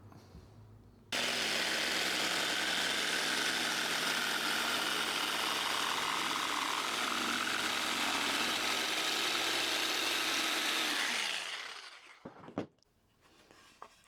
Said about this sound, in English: I'm going to cut that out with the jigsaw